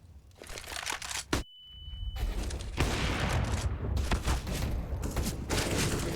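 Rapid gunfire from pistols and an automatic Galil rifle in a Counter-Strike match on Dust2, dense overlapping shots and bursts in a loud, continuous volley with a brief gap.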